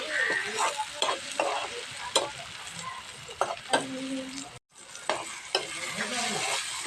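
Tomato pieces fry in a pan with a continuous sizzle, broken by scraping stirs and clanks against the pan, and a faint voice-like murmur in the background.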